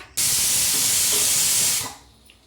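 A pressure cooker cooking vegetable pulao lets out one sharp, loud burst of hissing steam that lasts nearly two seconds before dying away.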